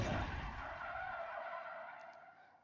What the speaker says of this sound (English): the skid and the rattling sounds are much stronger and much more intense.